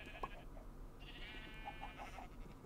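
A Minecraft sheep bleats in a video game, one wavering call followed by a second, over a quiet background with faint clucking-like blips.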